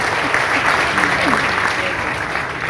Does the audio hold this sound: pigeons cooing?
no